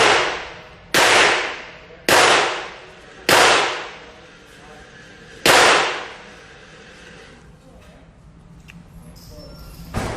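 Four loud gunshots at a shooting range, evenly spaced about a second apart, then a fifth after a pause, each a sharp crack with a decaying echo, followed by quieter ambient noise.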